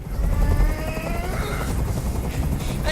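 A helicopter hovers overhead in a Detroit: Become Human hostage scene, its loud rotor thrum steady and continuous with a rising whine, heard alone without talk.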